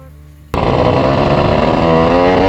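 A Suzuki Satria motorcycle with a slipping clutch and king carburetor bursts from a low idle into a loud, sustained high rev that holds steady and buzzing to the end.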